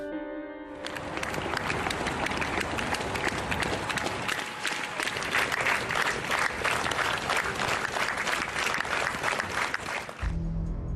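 Mourners applaud along a funeral procession, a loud, sustained wash of clapping from a large outdoor crowd that swells in and runs steadily for about ten seconds before cutting off.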